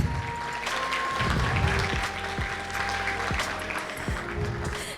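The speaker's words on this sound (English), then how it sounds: "Ladies and gentlemen, shall we give her a warm round of applause" Ballroom audience at a semiconductor business conference applauds warmly for a guest minister, a broad sustained clatter of clapping with occasional sharp claps and a low hum of room noise beneath, no speech.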